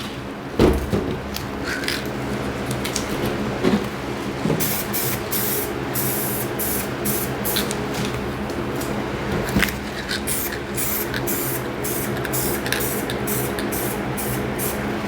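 Spray paint can hissing black paint onto a canvas, a close, steady hiss broken into repeated short bursts with brief gaps between sprays.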